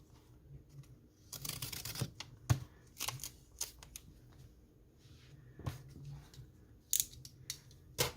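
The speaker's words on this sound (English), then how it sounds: "I think I'm gonna just go ahead and slice that little bit off" Scissors snip paper while trimming a page in a composition glue book journal, giving close, crisp cutting strokes in scattered short bursts with quiet gaps between.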